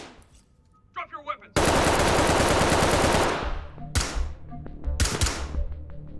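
Bursts of automatic gunfire in the tactical shooter game Ready or Not, a loud sustained volley followed by shorter sharp bursts indoors, with brief voices before the shooting.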